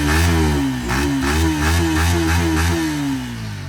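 A Yamaha ASR motorcycle engine runs close by, idling with a few revving swells in pitch and a clattering mechanical tone that fades slightly at the end.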